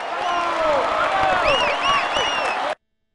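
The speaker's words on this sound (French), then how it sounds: "vous pouvez l'applaudir bien fort" Applause and cheering from a roadside crowd for the Tour de France yellow jersey winner at a stage ceremony, a steady wash of clapping mixed with high whistles and shouts, then cut off abruptly.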